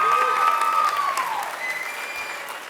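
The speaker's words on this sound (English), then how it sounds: "Let's give him a round of applause" A theater audience at a Broadway revue show applauds for a backstage crew member, a continuous spread of clapping that gradually fades, with a sustained musical tone and faint cheering mixed in early on.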